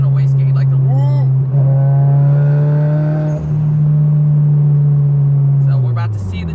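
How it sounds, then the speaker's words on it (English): A turbocharged Subaru BRZ on a dyno holds a loud, steady drone while the turbo and external wastegate whoosh and whistle above it, with someone talking over the noise. "you can also hear the external wastegate, like the woo"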